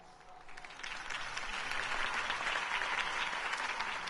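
Crowd applause after a mayoral campaign speech in the Batman Telltale video game, a dense wash of clapping that swells over the first second and then holds steady and loud.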